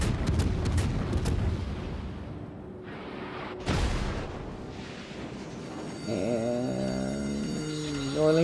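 Warship guns fire in a naval video game battle, heavy booms and cracks rolling out with long rumbling tails, followed by a rising siren-like warbling tone, with occasional talk underneath.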